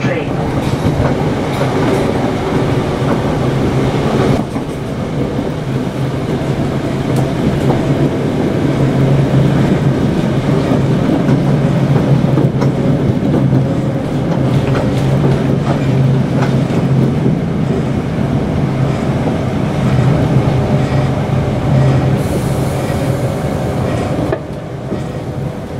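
A Class 318 electric train from Milngavie to Cumbernauld via Hamilton Central, heard from on board as a loud sustained rumble with rail clatter and a steady motor hum throughout.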